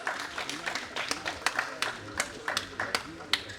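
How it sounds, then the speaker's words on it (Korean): Audience applause at a Korean Rotary meeting welcoming a foundation trustee to the podium, with a steady patter of many hands clapping at moderate loudness throughout. "현천욱 재단이사님께 큰 박수 부탁드립니다."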